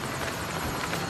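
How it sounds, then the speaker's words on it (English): A powerful jet-engine fan wind machine on a Mission: Impossible stunt set blasts a loud, constant roaring rush of air with no break across the moment. "it was a powerful wind machine"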